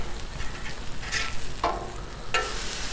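Big Mac burger patties sizzling in a frying pan just after being flipped, a steady hiss of hot oil and fat with a few brief scraping bursts from a spatula, close and alone.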